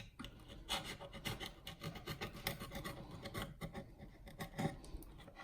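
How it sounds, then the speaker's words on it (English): Hand sanding along the edge of a decoration on IKEA storage drawers makes close, repeated rasping strokes in an uneven rhythm, with no voices. "I'm going to cut it first and then just sand it back."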